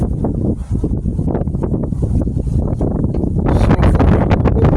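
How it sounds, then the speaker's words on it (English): Strong wind blows outdoors beside a 1998 Ford Ranger under wheel arch repair, a loud rough buffeting roar against the microphone that gusts harder toward the end. "Wind is blowing, yes it is. Blowing today."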